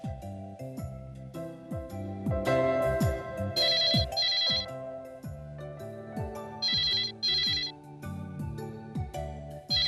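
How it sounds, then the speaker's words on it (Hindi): A melodic phone ringtone plays continuously and loudly, its tune repeating with bright chiming bursts, ringing on without being picked up. "लगता है पीके लुढ़क गया है, फोन उठाता ही नहीं है।"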